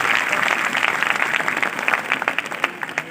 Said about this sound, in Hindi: आप लोग तालियों के साथ इनका उत्साहवर्धन करें